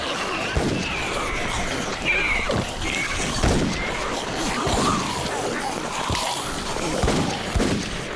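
Repeated sharp gunshots crack at irregular intervals amid a busy, noisy action scene from the film Dead Heist, with shouting and commotion underneath.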